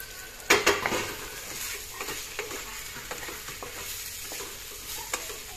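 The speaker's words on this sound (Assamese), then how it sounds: "এইখিনি অলপ এনেকৈ লৰাই দিলোঁ" Okra and potatoes frying in a pan are stirred with a utensil, giving a soft steady sizzle broken by scraping clinks against the pan, loudest at the start and then lighter and intermittent.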